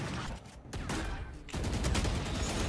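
Classic pistol gunfire in the Valorant video game, a dense loud run of sharp shots with short gaps, rising to an almost continuous burst at the end.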